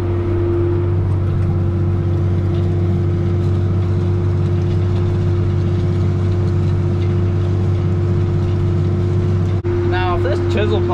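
A tractor pulls a chisel plow through a field, its engine a steady, loud, close drone that holds throughout; a voice speaks briefly at the end.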